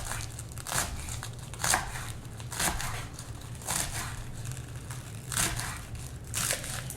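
A knife chops through collard greens on a cutting board in a series of crisp, crunchy slices, roughly one cut per second, close and moderately loud with leafy crinkling between strokes.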